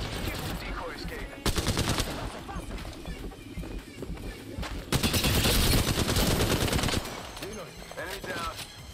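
A video game firefight with sustained, heavy automatic gunfire, some bursts louder and closer and others fainter, all over a continuous background of battle noise.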